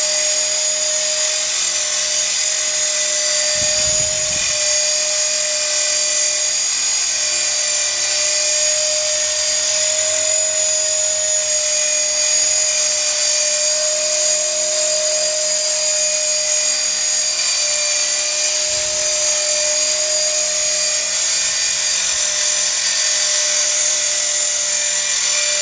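An EXI 450 CF Pro radio-controlled helicopter flies in a backyard on a cool overcast day, its high, steady whining rotor and motor hum continuous and close throughout, with occasional low thumps beneath.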